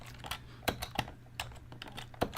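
Keys clack under steady typing on a Color Computer keyboard, with irregular close clicks and a few louder strikes over a low background hum.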